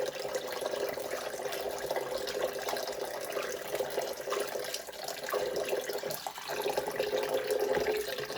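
Cold water is poured slowly into a white pan of Icelandic wool yarn dyed blue with RIT dye, making a steady continuous splashing trickle that runs alone with a brief dip partway through.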